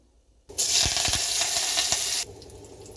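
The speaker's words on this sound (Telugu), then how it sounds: "పప్పులోనికి పోనీ వేస్తున్నాను అందులో ఆవాలు జీలకర్ర కల్యమాకు పసుపు అన్నీ వేసాను" Mustard seeds, cumin, curry leaves and turmeric hit hot oil for a dal tempering, bursting into a loud, bright sizzle with a few popping crackles that lasts under two seconds and then cuts off abruptly.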